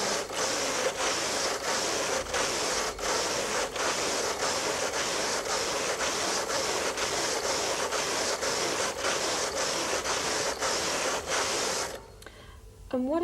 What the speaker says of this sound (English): And then you can continue knitting.